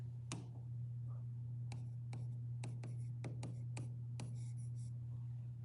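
A pen writes down a math answer in a quiet room, giving about eight short, faint scratchy strokes at uneven intervals over a constant low electrical hum.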